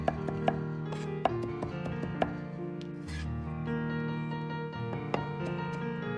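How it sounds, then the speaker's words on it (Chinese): A kitchen knife chops crushed garlic cloves into a fine paste on a board, a handful of sharp, scattered knocks standing out over steady background music. "再准备大蒜子稍微多一点，先拍破，然后再剁成蒜泥。"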